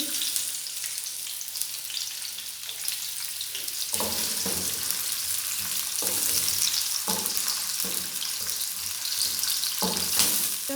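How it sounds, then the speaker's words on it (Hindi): Chopped medium onion frying in a pan until golden brown produces a steady, bubbly sizzle, with stirring scrapes growing more frequent and rhythmic in the second half. "इसको सबसे पहले हम जो है गोल्डन ब्राउन कर लेंगे"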